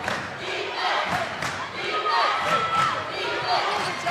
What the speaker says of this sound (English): Man, this crowd is just electric here. It's amazing. They haven't stopped.